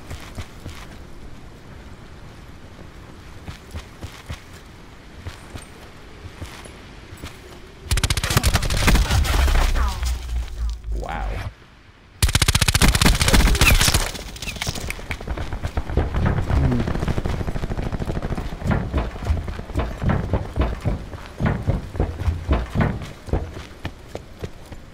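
Rapid-fire gunfire in Black Ops 4, with long loud continuous bursts around the middle, a brief drop between them, and lighter firing and game noise before and after.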